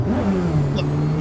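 A car engine in a racing video game lets its revs fall in one smooth, sliding pitch drop, steady and fairly loud, with no talking over it.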